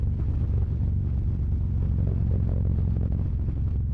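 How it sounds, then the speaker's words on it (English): A Harley-Davidson Road King Special with an air-cooled 114 engine and Stage 1 performance upgrade runs with a steady, deep low rumble, close and continuous with a slight rise in the middle, no talking over it. "this bike is, I'm telling you what, it puts out a lot of sound"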